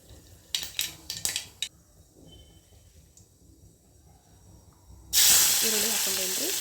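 A few light metallic clinks of utensils on a pan come first, then cumin and mustard seeds hit hot oil and burst into a loud, sustained sizzle that gradually eases.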